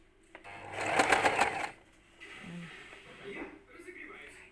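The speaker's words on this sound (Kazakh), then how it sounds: "Түзу тігісті тігіп жатыр." Domestic sewing machine running a straight stitch: a brief, fast whirring burst of needle clatter lasting about a second, close by, followed by a person talking.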